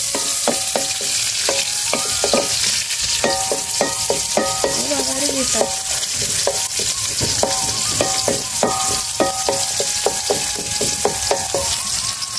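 Chopped onion fries in hot oil in a wok, giving a constant loud hiss with a rapid run of regular metallic clanks from stirring throughout.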